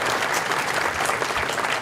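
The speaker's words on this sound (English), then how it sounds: "Let's give them a round of applause for being here on this day." A crowd at a Veterans Day program in Gatlinburg applauds the town commissioners, a dense, steady wash of clapping that holds an even level throughout with no voices over it.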